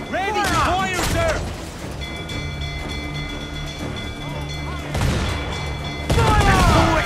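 Ship cannons firing in the Assassin's Creed IV: Black Flag naval battle, a few heavy booms amid creaking sea ambience, with voices shouting over the noise.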